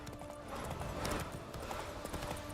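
Roach, a horse in The Witcher 3: Blood and Wine, trots with steady clip-clop hoofbeats, moderately close and continuous against a busy in-game background, no talking over it.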